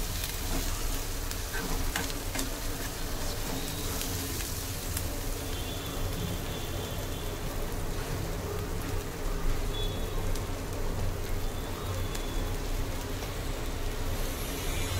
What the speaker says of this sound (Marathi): आता हा व्यवस्थित असा आपण तेलामध्ये परतून घेऊया, अगदी ब्राउनिश होईपर्यंत.